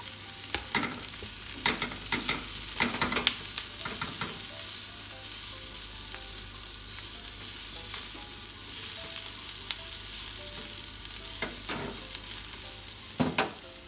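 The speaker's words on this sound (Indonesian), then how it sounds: "Kalau sudah layu, masukkan wortel dan cabai." Sausage stir-fried in a pan with carrots and chilies gives a steady sizzle, with repeated close scrapes and clacks from the stirring coming in bursts throughout, and no talking.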